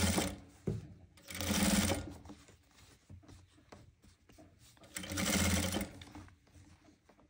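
A sewing machine stitching a velvet kurti blouse, running in two loud, sustained bursts separated by quieter handling and rustling of fabric, close by.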